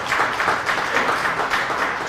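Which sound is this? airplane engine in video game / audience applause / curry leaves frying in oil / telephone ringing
audience applause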